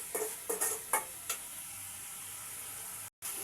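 Cauliflower with black pepper frying in a pan, a steady close sizzle with a few sharp stirring scrapes early on and a brief dropout near the end.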